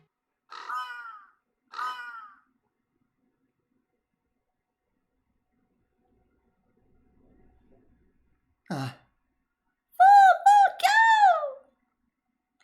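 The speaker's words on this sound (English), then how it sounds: "Look, Senpai, birds!" Crows caw in the video game Fate/Grand Order, a couple of short, spaced caws, then a louder burst of several harsh calls close together, heard against near silence.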